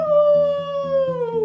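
A person imitates a wolf howling at the moon, one long sustained wavering howl that slides slowly downward in pitch, loud and close, with a softer rhythmic pulsing underneath.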